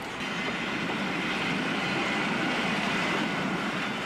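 An Alco 1500 class mainline diesel train runs on a Portuguese line, giving a steady, even rumble and rolling rail noise at constant loudness, close by and uninterrupted.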